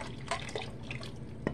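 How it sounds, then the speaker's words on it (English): Water poured from a can into a cooking pot while making cowboy charro beans, soft splashing and dripping with a few brighter plops, close and fairly quiet. "So I'm adding a can of water"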